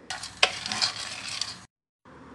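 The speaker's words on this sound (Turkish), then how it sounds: "Önce karıştırarak birazcık buzunu eritiyorum orta ateşte." Frozen corn being stirred in a pot over medium heat, a close crackling, hissing scrape with a sharp knock of the spoon, then a brief silence before quieter stirring resumes.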